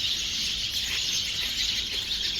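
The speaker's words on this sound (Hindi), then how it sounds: "यहाँ पे ना इतने सारे बर्ड्स थे ना इस पेड़ पे, तो शाम का टाइम था, तो इतनी चहचहाट हो रही थी।" A flock of many birds chirps in a tree at evening, a dense, continuous high twittering chorus close by, with a low background rumble and no one talking.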